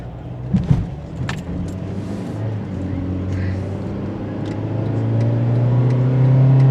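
A car pulls out onto a road during a delivery run, its engine rising steadily and growing louder toward the end, with a few light clinks near the start.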